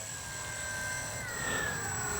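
A Dynam DHC Beaver V2 RC airplane flies overhead with a continuous electric motor whine that rises and shifts slightly in pitch over a couple of seconds, moderately distant.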